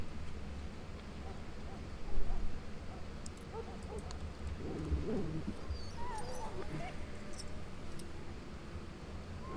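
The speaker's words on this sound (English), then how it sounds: "Now I can treat the dog properly, poor fella." An injured dog in a video game whimpers and yips softly in pain, with faint cries rising over a dense, steady background noise.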